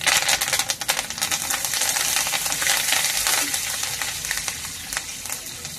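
Chili pieces and curry leaves frying in hot oil for pulihora, with a bright, dense sizzle and crackle and quick clicking pops right after they drop in, settling into a steady hiss.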